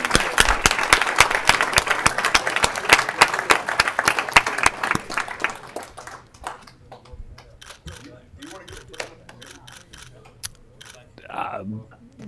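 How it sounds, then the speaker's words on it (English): A committee hearing gives a round of applause, with dense clapping for about six seconds before it thins into scattered claps and faint movement and voices. "Let's give him one more round of applause."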